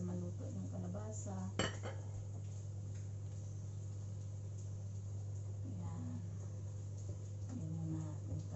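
Pumpkin pieces are added to a pot of boiling coconut milk, giving a few soft clinks and scrapes of utensil against the pot over a steady low hum, with faint voices in the background.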